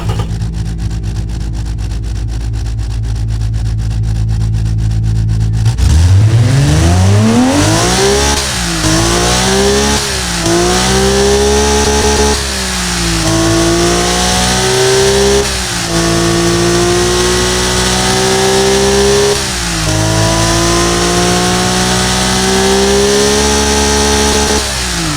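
A BMW S50B30US racing engine, tuned to about 407 horsepower in the Automation car-building game, idles with a buzzy drone, then revs hard in repeated rising and falling sweeps, loud and close, with no talk.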